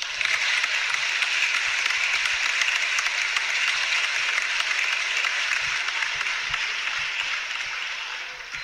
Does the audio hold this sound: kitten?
no